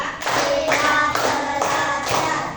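A few loud, sharp hand claps land in a slow, uneven rhythm, each one ringing briefly before the next.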